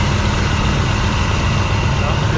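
Chevelle engine idling around 900 RPM after being revived, a loud, steady, close low rumble with an even throb that continues unbroken, with someone talking over it.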